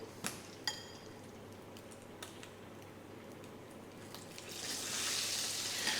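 Potato pieces frying in hot oil in a pan, a steady soft sizzle with a few sharp clinks early on, the hiss swelling louder toward the end.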